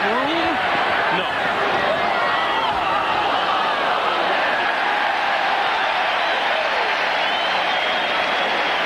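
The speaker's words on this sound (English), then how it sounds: "The cheer is for a pretty good diving catch by that young man behind home plate" A stadium crowd at a 1995 MLB playoff game between Cincinnati and the Los Angeles Dodgers roars steadily for a diving catch behind home plate, loud sustained cheering and applause with a commentator's voice over it.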